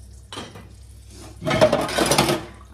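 Dishes, pots and cutlery clatter as they are loaded into a dishwasher in a home kitchen, a few soft knocks first, then a louder, busier burst of clinking crockery and metal.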